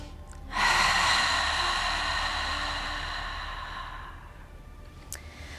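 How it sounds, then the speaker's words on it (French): Slow Ujjayi yoga breath drawn through a slightly constricted throat: one long, airy, hissing exhalation that starts strongly and gradually fades, close and alone. "on commence la respiration Ujjayi en contractant la gorge un petit peu"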